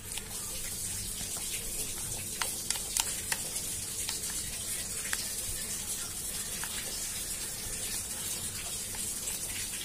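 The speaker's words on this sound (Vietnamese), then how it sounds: "mình bỏ vô cái chài này, mình quấy lại lần nữa cho nó mềm" Minced duck meat being stirred in a frying pan, giving a steady close sizzle and frying hiss with a few sharper scraping clicks from the spoon, no talk.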